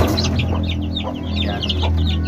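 Brahma chickens cluck repeatedly close by in a backyard farm, a steady run of short, overlapping calls heard alone without talk.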